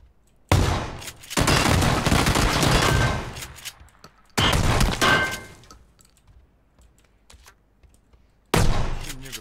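Shotgun fire in a video game comes in three loud, dense bursts of rapid blasts, the first long and sustained, the second shorter and the last cut off at the end, with near silence between them.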